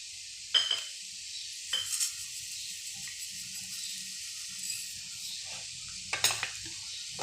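A spoon stirs sugar into a pan mixture that was sautéed for five minutes, giving a soft, steady sizzle broken by a few sharp scraping clinks against the pan.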